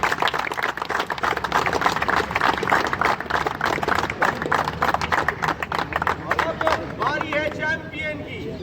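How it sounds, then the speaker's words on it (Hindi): A crowd applauds the runner-up team at an interbank T20 cricket tournament prize ceremony. Dense, sustained clapping mixes with crowd chatter, then thins out toward the end as a voice comes through. "बहुत सारी तालियां होनी चाहिए आज रनर अप टीम के लिए"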